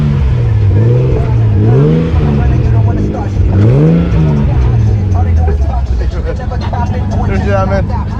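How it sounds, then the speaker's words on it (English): Car engine revving at a night car meet among Supras and Skylines, rising and falling in several loud swells up close, with people talking over the crowd noise. "Bro, you rev a little bit?"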